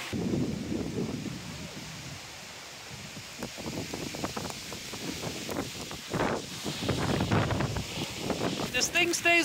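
Strong storm wind gusting in a Midwestern storm near a Vevor FT500 wind turbine, a broad continuous roar that swells and surges in waves, with rustling and buffeting noise close to the microphone and no clear turbine tone.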